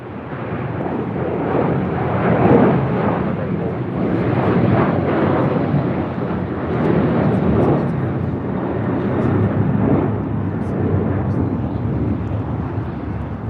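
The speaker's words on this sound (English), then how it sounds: "1979 taking off to Chicago O'Hare on a 737-800" An American Airlines Boeing 737-800 takes off at LAX with a loud, sustained jet roar that swells and eases in broad waves, and voices talk over it.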